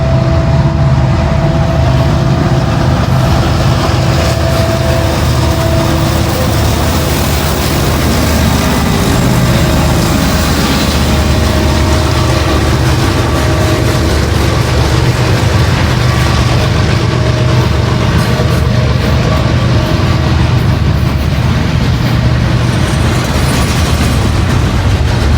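A train rolls past near Cresson and Lilly, Pennsylvania, a steady loud rumble of railcars and heavy engine drone filling the whole stretch without letup.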